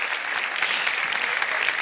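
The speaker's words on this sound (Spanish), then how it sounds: "vamos a darles un súper aplauso a los chicos y las chicas de ROAC" An audience at a professional youth-services conference gives the ROAC boys and girls a dense, steady burst of applause, loud and close throughout, with no voices standing out.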